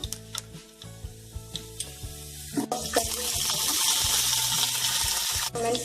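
Peanuts and cumin sizzle in hot oil for sabudana kichadi, a low steady hum with faint clicks giving way to a loud, continuous, close frying hiss.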